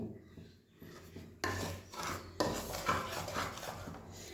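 Gram flour for panjiri is stirred and roasted in a pan, giving close scraping and rubbing of a spoon against the metal, quiet at first and then louder with uneven strokes, with no talk.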